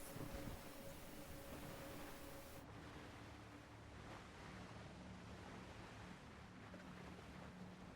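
Ocean waves in the sailing game Windrose make a constant broad wash of surf and wind around a boat, steady and moderately loud, with a low hum under it and no voices.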